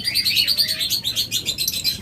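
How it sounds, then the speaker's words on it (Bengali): A crowd of lovebird pairs kept for sale chirp constantly in shrill, rapid, overlapping tweets, loud and close, forming a dense pulsing chatter with no voices. "অসংখ্য পরিমাণ লাভবার্ড জোড়া রয়েছে"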